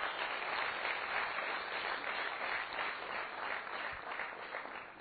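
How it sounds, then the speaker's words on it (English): An audience at a business school annual day applauds, a dense, steady wash of clapping from many hands that holds evenly and tapers slightly at the end. "Can we give her a big round of applause?"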